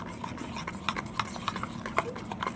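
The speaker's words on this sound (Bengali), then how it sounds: "এটাকে এরকম করে ভালো করে পেস্টটাকে মিশিয়ে নিতে হবে" A spoon stirring spice paste with yogurt, salt and turmeric in a bowl, giving soft irregular taps and scrapes over a low steady hum.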